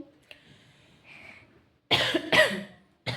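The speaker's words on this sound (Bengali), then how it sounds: "মনে হচ্ছে কাশি হবে রে" A person coughs in a home setting, several harsh bursts close to the microphone after a quieter stretch, the strongest two coming in quick succession.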